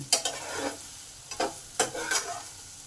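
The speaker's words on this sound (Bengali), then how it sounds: "ভালো করে পেঁয়াজটাকে পাঁচ মিনিট ধরে আলুর সঙ্গে নেড়ে নিই" Chopped onion and potatoes frying in a pan and being stirred, with a steady low sizzle broken by three or four sharp scraping strokes of the spoon, close and fairly quiet, with no voices.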